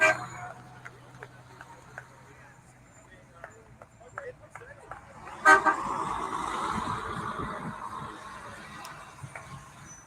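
Buses pass one after another in a procession as the Buckeyes return to Columbus, with engine rumble, scattered horn toots and a loud swell midway, while crowd noise and voices carry on throughout.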